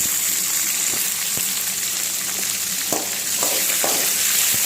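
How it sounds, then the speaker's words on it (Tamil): Small onions and garlic frying in a pan for a village-style fish curry, a steady close sizzle with scattered sharp scraping knocks as they are stirred. "இது நல்லா வதங்குற வரைக்கும் நல்லா கிண்டிக்கிட்டே இருங்க."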